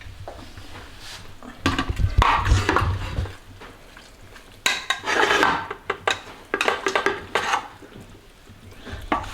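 Macaroni and cheese is scooped and scraped into a pan in bursts of clattering utensil-on-metal and wet stirring, loud and close, with quieter pauses between handfuls.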